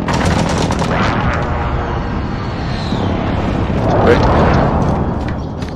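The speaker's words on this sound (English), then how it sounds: "Enemy position airstrike, take cover!" Airstrike explosions in a multiplayer military shooter, a continuous loud roar of blasts and gunfire with a swelling rumble near the end, heard without talking.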